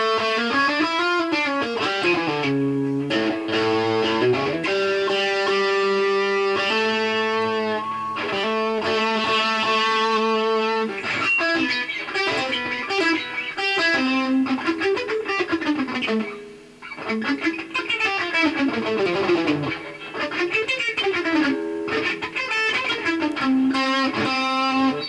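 A Greco SE500 electric guitar plays sustained melodic lines and bends, loud and continuous with a slightly overdriven tone, no voices.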